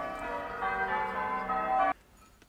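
A bell rings steadily as wedding bells, loud and sustained with rich ringing tones for about two seconds, then stops abruptly, leaving quiet room noise.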